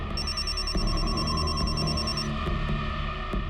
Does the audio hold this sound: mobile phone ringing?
yes